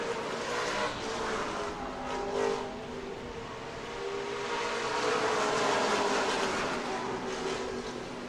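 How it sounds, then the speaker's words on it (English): Ford Mustang race car running on track at Road America, a sustained engine roar swelling and easing as it moves through the circuit, steady and fairly loud with no talk over it. "Antoine Rios on track now. That beautiful Ford Mustang."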